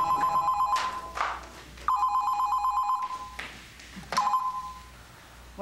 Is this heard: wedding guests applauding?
no